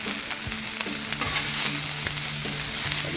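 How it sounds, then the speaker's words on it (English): Onions and peppers fry on a Blackstone griddle with a dense, continuous sizzle and crackle, close up. Light spatula taps and scrapes come through, with a faint tonal hum underneath. "when you drop these onions and peppers on this griddle"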